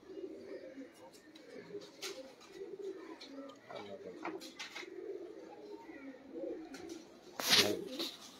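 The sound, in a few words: pigeons cooing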